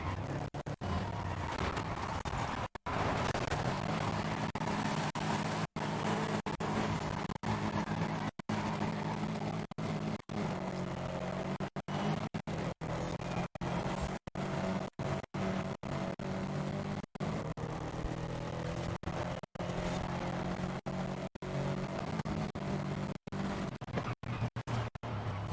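A race car's engine drones steadily in the Forza video game, loud and continuous throughout, with brief dropouts and a rough, scraping texture as the car drives.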